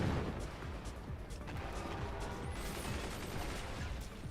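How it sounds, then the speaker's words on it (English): Dense, continuous barrage of mortar and artillery-style explosions in the physics-based RTS game Forts, rumbling booms layered thickly without pause and sounding moderately distant. "Here comes the mortars."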